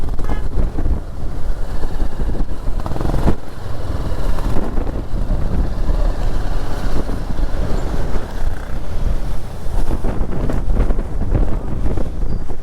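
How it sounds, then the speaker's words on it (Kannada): Strong wind buffets the microphone on Horsley Hills during a ride on a BMW G310GS motorcycle, a loud continuous roaring rush with gusty swells and no talk. "ಏನು ಗಾಳಿ ಗುರು"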